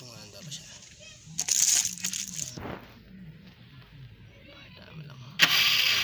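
A stock scooter with a weak battery is cranked and sputters briefly, then catches and idles unevenly; short electric starter bursts, nearby, with people talking around it.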